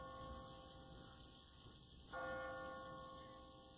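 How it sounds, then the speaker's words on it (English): A church bell in The Walking Dead video game rings out on an automatic timer, a sustained tolling tone that swells suddenly partway through over a steady ambient hum. "What kind of church bell goes off at 20 past the hour?"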